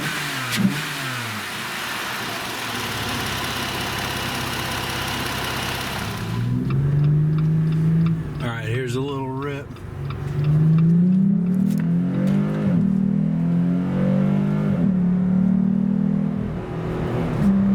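Jeep Gladiator engine with a Magnaflow Rock Crawler exhaust, heard close up from under the hood: a steady hum gives way to a throaty idle, then repeated revs that rise and fall, loud and alone without talking.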